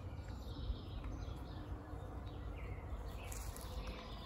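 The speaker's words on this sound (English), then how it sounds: "I hear bees zipping and booping around." Bees buzz and zip around trees outdoors, a faint steady insect drone over a constant hiss of outdoor ambience, with no talking.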